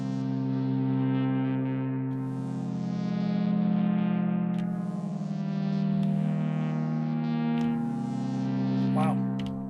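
A sustained Behringer 2600 synthesizer tone with a shimmering, wavering chorus effect, holding steady and loud, with brief higher blips near the end.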